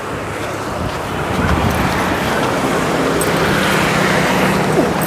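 Road traffic rumbles steadily around a moving car, a broad continuous wash of engine and tyre noise with wind buffeting, loud and close throughout, no voices.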